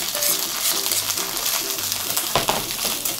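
Garlic sizzling in a hot pan for a carbonara rice bowl, a steady dense frying hiss with faint stirring clinks, close and loud throughout.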